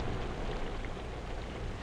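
Steady rain falls on a garden with corn, potatoes and onions, a dense even hiss of drops on soil and leaves, constant and close, with no voices.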